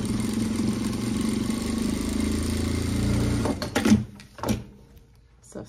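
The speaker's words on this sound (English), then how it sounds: "I'm gonna just sew right down on that same line right there." A sewing machine stitches a seam on an Uluaq bag with a steady, even whir for a few seconds, then stops, followed by a couple of soft clunks.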